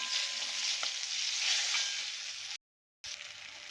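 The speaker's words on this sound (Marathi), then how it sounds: "पहा व्यवस्थित मिरची छान परतलेली आहे" Green chillies fry in a pan with spice powder while being stirred, giving a steady close sizzle with occasional scraping, broken by a brief silent gap before the frying resumes.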